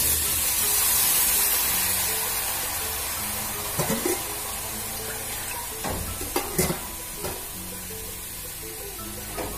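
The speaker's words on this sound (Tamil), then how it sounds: "இப்போ இதில் நம்ம தண்ணி ஊற்றி" Water is poured into a hot pan of mixed vegetables and dal for Tamil-style poriyal, giving a close hissing sizzle with a few sharp clanks of stirring and scraping.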